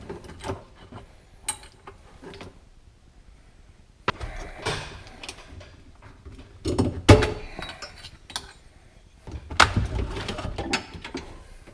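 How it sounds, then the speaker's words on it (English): A T30 star bit turns out a factory bolt on a Polaris RZR 1000, giving short ratcheting, clicking mechanical bursts in a few separate spurts with quiet pauses between, close and moderately loud. "now we're going to use a T30 star bit to take that factory bolt out of over here"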